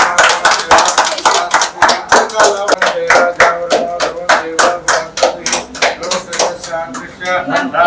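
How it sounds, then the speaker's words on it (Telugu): A crowd applauds at a Telugu ceremony with Vedic chanting: loud, dense, continuous clapping for several seconds, with voices faintly underneath. "చప్పట్లు కొట్టండి"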